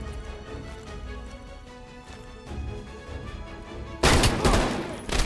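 Gunfire from Call of Duty: Black Ops Cold War rattles in rapid bursts over a dense musical soundtrack, growing louder and more explosive near the end.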